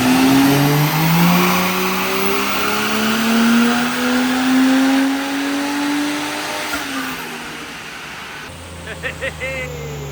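A Barra-engined turbo Ford Falcon ute revs hard on a dynamometer, its loud engine note climbing steadily in pitch through a long pull before cutting off near the end, followed by brief faint clatter; a voice speaks over part of it.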